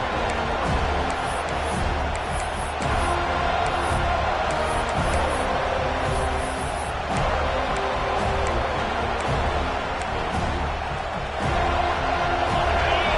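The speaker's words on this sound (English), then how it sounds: "the crowd coming to life here, trying to help this defense down in the red zone" A large American football stadium crowd roars in a sustained wash of noise, with cheering swelling and holding steady throughout as the defense plays in the red zone.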